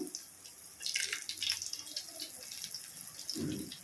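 Bread pieces fry in hot oil for double ka meetha, giving a steady, close crackle with scattered popping bursts and no talk.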